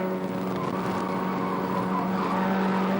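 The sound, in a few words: race car cornering with tyre squeal during 24 hour race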